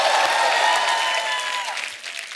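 A live stage-show audience applauds loudly in tribute to a Bollywood singer, a dense burst of clapping that stays strong and then begins to thin out toward the end.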